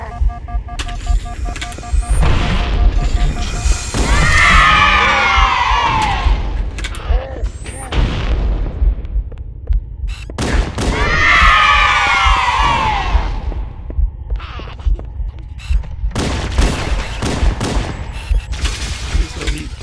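Gunfire in Halo comes as loud, dense volleys mixed with shouting alien voices and thuds, in two main bursts separated by quieter stretches, with voices talking over it.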